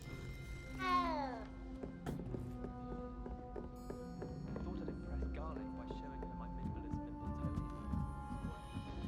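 A cat meows in the video game Hogwarts Legacy, a rising, wavering cry near the start, set against game music and ambient sound with a few later chirps.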